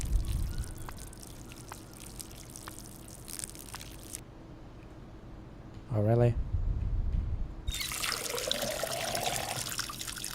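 Water pours in the video game Schedule I, a steady watery rush over the last couple of seconds following a brief gurgling burst, with someone talking over the game's background noise.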